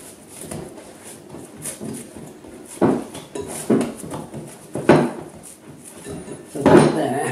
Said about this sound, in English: you do need to give it a little bit of a knead